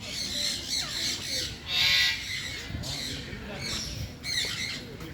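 Shrill parrot squawks ring out repeatedly at a zoo, with one long harsh call in the middle, amid a busy background of other chirps and murmuring voices.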